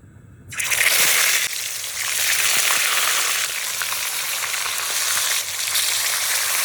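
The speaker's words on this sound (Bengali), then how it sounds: "এই যে এবার আমি তেল গরম হয়ে গেছে, এগুলো ভেজে নেবো।" Boiled eggs dropped into hot oil in a kadai, bursting into a loud, dense crackling sizzle after a short quiet start and holding steady throughout, with faint spattering pops.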